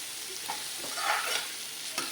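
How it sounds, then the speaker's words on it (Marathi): A vegetable dish with boiled small raw mango, crushed peanuts and salt frying in a pan, a soft sizzle with light scraping stirs and occasional clicks, quiet and close, no voices. "छान फ्राय करून घेतलंय त्याला."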